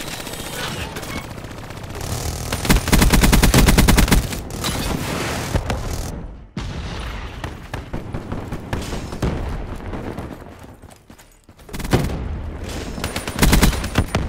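Rapid automatic gunfire from an active turret in a video game, loud and sustained in bursts with booming impacts, pausing briefly and resuming, with in-game voice callouts mixed in.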